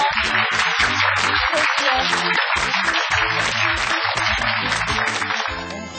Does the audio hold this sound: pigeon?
no